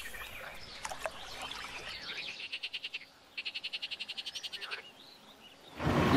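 Frogs croak in a flooded wetland, with rapid pulsed trains of calls repeating in bursts over a steady background hiss, moderately close, with no voices.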